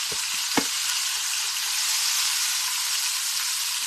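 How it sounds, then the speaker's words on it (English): Tomatoes and onions hit a hot pan and sizzle continuously, a steady hissing fry with a few sharp clatters at the start, close and fairly loud. "now that it's hot, We're going to add all of our tomatoes and onions"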